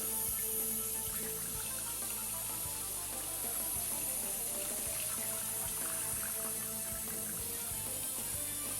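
Steady running water poured over a surface for a rinse, a continuous even wash of splashing and trickling that holds at a constant level throughout with no speech.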